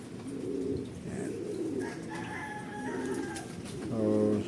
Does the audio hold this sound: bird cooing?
yes